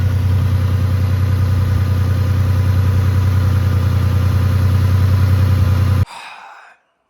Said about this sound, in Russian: Но двигатель как будто ровно работает.